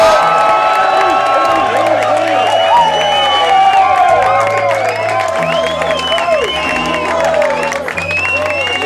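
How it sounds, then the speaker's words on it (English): A comedy club crowd in Venice claps and cheers loudly and steadily as comedian Andrew Evans comes on, with music playing underneath the continuous applause. "Guys, put your hands together. Give a very warm Venice welcome to Andrew"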